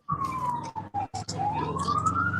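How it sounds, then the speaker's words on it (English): A siren wails from a small engine setup, a loud sweeping tone that dips, breaks into short choppy bursts, then rises again in a long climbing whoop. "And then the siren."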